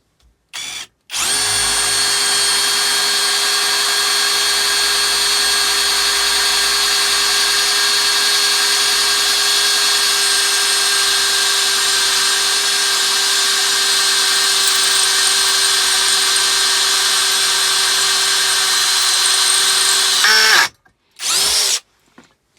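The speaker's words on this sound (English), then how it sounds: "Let's see if I can drill another before my Makita died on me." An Aldi 40V combi drill fitted with a fresh bit whines at a steady high pitch for about twenty seconds while drilling a hole, loud and close, then cuts off and gives one short final burst.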